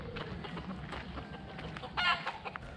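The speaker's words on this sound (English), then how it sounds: "It wouldn't be Puerto Rico without the roosters." A rooster crows nearby over a steady outdoor background in Puerto Rico, with a louder burst of crowing near the end.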